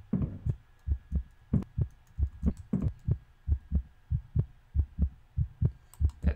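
Heartbeat starvation warning from the survival game Farsky, a steady run of muffled double thumps repeating about twice per second, fairly quiet and continuous with a faint hum beneath.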